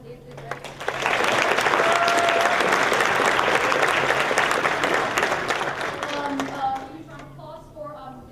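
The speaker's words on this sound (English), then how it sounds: "Huge round of applause to them." Sustained applause from a concert audience, thanking backstage helpers, swells quickly after a brief lead-in and holds dense and loud for several seconds before tapering off as a voice begins speaking.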